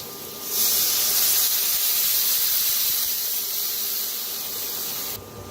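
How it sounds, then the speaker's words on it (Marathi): A loud burst of sizzling hiss as water is poured into a hot pan of roasted turmeric and coriander powder, holding steady for several seconds before cutting off. "आता त्याच्यात ओतूया पाणी"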